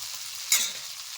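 Dried chili, coriander and cumin hit hot oil for a small fish curry, a brief bright sizzle that flares at once and then settles into a steady faint frying hiss.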